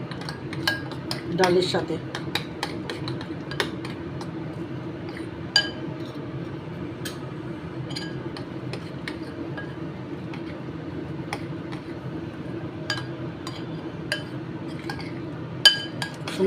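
A spoon clinks against a pan while cabbage is mixed with chana dal and hing, with scattered metallic taps and scrapes at an irregular pace, fairly faint, and a voice speaks briefly.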